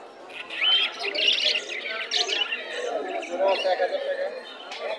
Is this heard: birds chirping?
yes